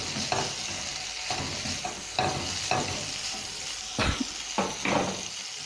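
Capsicum and bell peppers stirred in a hot pan over a medium flame; a continuous sizzle broken by repeated scraping strokes and a few louder clatters of the spatula against the pan, close up and without talk.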